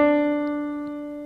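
Keyboard sounding a whole tone upward from middle C: two sustained clear pitches heard in turn, alone and fading slowly.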